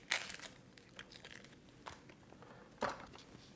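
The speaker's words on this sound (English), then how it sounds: "I'm going to peel off just the outermost layer of the onion." Dry papery crinkles and tears as the outer skin of an onion is peeled away, three short bursts spread across a quiet background, close and fairly soft.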